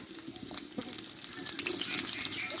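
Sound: onion frying in hot oil

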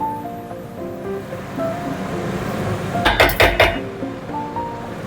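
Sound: lid placed to cover cooking pot

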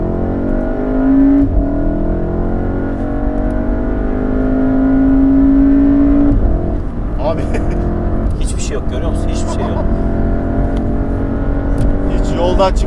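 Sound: modified 367 HP VW Golf R driving fast in race mode

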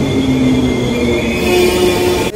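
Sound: train riding on rail line

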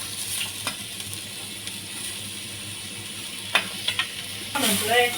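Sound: grated carrot roasting in ghee in a kadai for halwa

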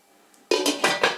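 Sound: lid placed on a cooking pot

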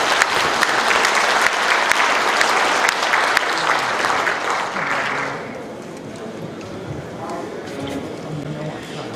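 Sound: applause

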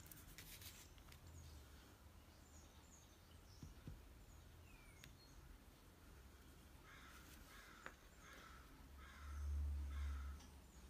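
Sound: crows cawing

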